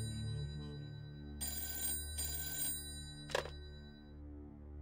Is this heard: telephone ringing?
yes